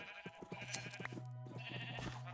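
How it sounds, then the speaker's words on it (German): Minecraft sheep bleat in a short series of wavering cries against the low, steady hum and faint clicks of the game, with no one speaking. "Wir dürfen die Schafe nicht vergessen, weil wir brauchen auch Wolle."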